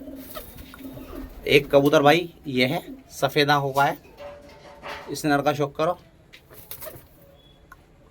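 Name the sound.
white-eyed male pigeon cooing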